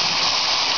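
Water rinsed from escarole drains out of a small container in a brief, loud, steady gush that sounds like a splashing pour.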